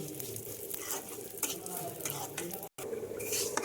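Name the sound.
moong dal being fried and stirred in hot oil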